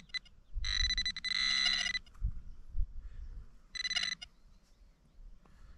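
A metal detector pinpointer beeping on a shallow coin signal in a field: two loud, buzzing electronic tone bursts about a second long, separated by quiet handling and faint rustling.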